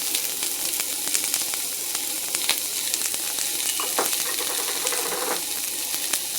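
Onions and garlic sizzling in a skillet for a potato and egg hash: a loud, close, continuous frying hiss, dense with tiny pops and crackles throughout.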